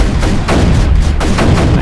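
Cannons firing in Creeper World 3, a dense, continuous barrage of booming shots in rapid succession, loud and close throughout.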